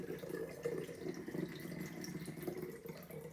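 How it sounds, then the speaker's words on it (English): Water runs steadily into a glass bottle, a continuous close splashing and gurgling that goes on for a few seconds without any talk. "So I added a lot of water"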